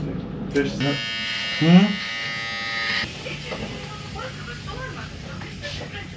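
A barber runs an electric razor in a Batumi barbershop, its steady buzzing whine strongest in the first few seconds and then fading, with voices talking over it nearby.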